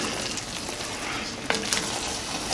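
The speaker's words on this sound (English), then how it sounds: "So give it a little stir." Cooked dirty rice sits in a hot pan with the heat still on, giving a dense steady sizzle, with a couple of brief scrapes as it is stirred near the end.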